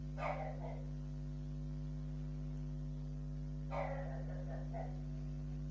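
A dog barking excitedly indoors, two short bursts of barks some seconds apart, fairly distant, over a steady electrical hum.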